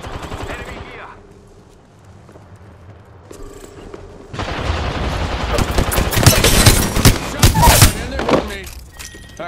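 Rapid automatic gunfire in the video game Apex Legends, sparse at first and then sustained, dense bursts in the second half, loud and close, with a player talking.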